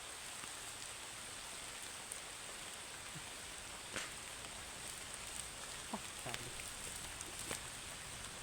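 Rain falling steadily on surfaces outdoors, a faint, even hiss with a few scattered louder drops and taps throughout, no voices.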